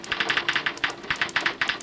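Rapid keystrokes on a manual typewriter, the kind I. F. Stone used, clacking in irregular bursts of sharp taps throughout, close and fairly loud with no voices.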